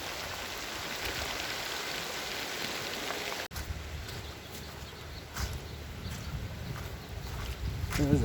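Heavy rain falls during a flood as a dense, constant hiss of drops hitting the ground and surfaces. The downpour runs steadily through the clip, and a few scattered knocks sound against it.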